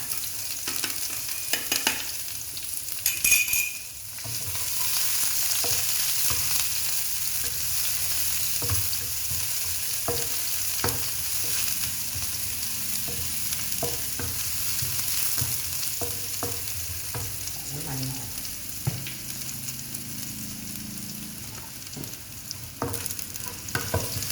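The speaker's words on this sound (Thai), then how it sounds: "เทน้ำมันเพื่อที่จะเอาเจียว เจียวหัวหอม สับกับกระเทียมเนี่ยค่ะ" Chopped shallots and garlic frying in oil over moderate heat for a Thai minced-pork chili paste, a steady broad sizzle with occasional stirring scrapes and clinks, close and continuous throughout.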